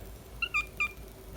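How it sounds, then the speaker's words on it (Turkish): A female cat gives two or three short, high, close meows in quick succession against a quiet background. "Ne biçim miyavlıyorsun kızım sen?"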